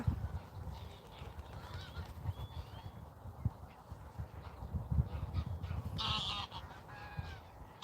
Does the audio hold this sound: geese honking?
yes